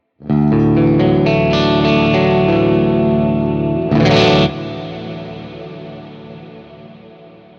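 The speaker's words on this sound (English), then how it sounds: "that is one hell of a reverb tail" A clean electric guitar played through a Fractal preset drenched in lush reverb rings out in a sustained chord, then a brighter accent, and the sound fades slowly into a long shimmering reverb tail.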